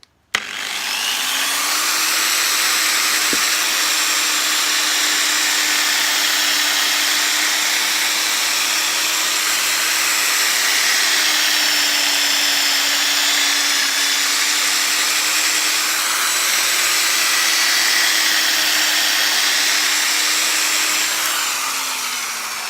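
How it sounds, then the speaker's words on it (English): A steady, continuous whine from an angle grinder running as it is guided over a Hoover Turbopower Junior U1426 vacuum cleaner during a refurb, with a faint tonal hum that shifts slightly. The grinding is loud and close, and no one speaks. "Whatever you do, don't push down on the angle grinder,"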